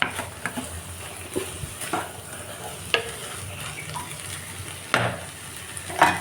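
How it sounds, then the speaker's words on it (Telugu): A curry made with Kandi Papu (pigeon peas) stir-fries in a pan until the water dries off, giving a steady soft sizzle. Sharper scrapes and clinks from the stirring spoon break through at intervals, with no talk. "వాటర్ అంతా డ్రై అయ్యేంత వరకు వేయించుకున్నాం"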